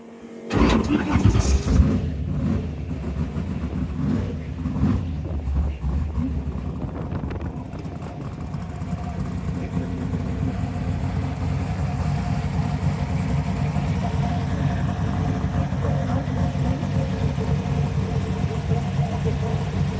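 A 1971 Ford Torino 429 Cobra Jet Pro Street with an 800 hp 514 big-block V8 cranks and roars to life with a loud revving burst, then settles into a steady, rumbling idle that continues throughout.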